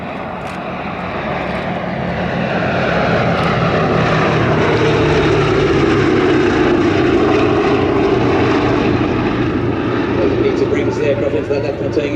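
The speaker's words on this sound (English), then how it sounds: "the lovely noise from those four 1200 horsepower Wright Cyclone turbo supercharged radial engines" A four-engine bomber with four 1200 horsepower Wright Cyclone turbo-supercharged radial engines drones past at an airshow, a steady loud propeller roar that swells over the first few seconds and holds, with faint speech underneath.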